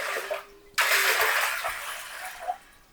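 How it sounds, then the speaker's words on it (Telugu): Water pours into a cooking vessel while bellam payasam is being made. A sudden, loud, close rush of splashing starts partway through, then gradually fades to a softer trickle. "మళ్ళీ మంచి నీళ్ళు పోసుకోవాలి."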